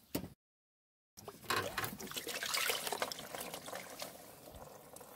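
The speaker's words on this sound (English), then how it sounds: "now we'll go ahead and pull this hose and this will let the water out of this very top part of this" Water drains from a pulled radiator hose on a Sebring Convertible, pouring and splashing close by in a steady, trickling stream after a brief break in the sound.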